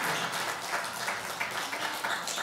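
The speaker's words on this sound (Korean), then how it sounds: "큰 박수 해주시기 바랍니다." Church congregation giving warm applause after a children's performance at a Tefillin family worship service, steady dense clapping throughout.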